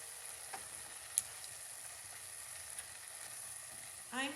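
Three cloves of minced garlic sizzle with softened onions in a soup pot, a faint, steady hiss throughout with a brief clink and a louder stirring scrape near the end.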